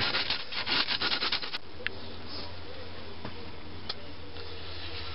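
Quick rhythmic rubbing strokes of a sanding block on a wooden katana part, close and brisk for about a second and a half, then quiet with a few faint bumps.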